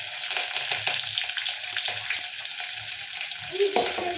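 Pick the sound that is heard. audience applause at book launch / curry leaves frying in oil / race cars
curry leaves frying in oil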